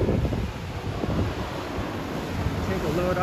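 Ocean waves wash below a seaside bouldering spot in Puerto Rico while strong wind buffets the microphone, a steady roaring rush with faint voices underneath.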